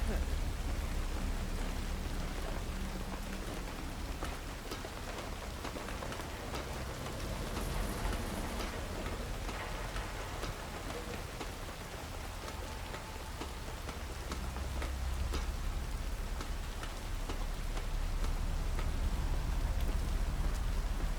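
Steady rain falls in the video game Hitman 3, a dense continuous hiss of drops pattering on surfaces, fairly faint and unbroken throughout, with no voices over it.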